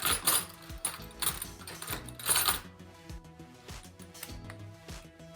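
A 2.5 mm hex driver backs out two screws from the front bumper of a Traxxas Slash 2WD RC car, making close, quiet clicking and ticking with small metallic rattles, a busier patch first and then sparser taps.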